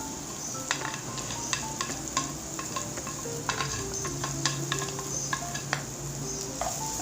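Finely chopped onion frying in a pan, a steady bright sizzle throughout with repeated stirring scrapes and clinks on top, close and without talk.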